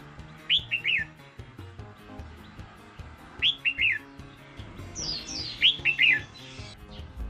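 A red-whiskered bulbul gives three short, squawky bursts of calls, spaced a few seconds apart against a quiet background, in a run of speech-like mimicry.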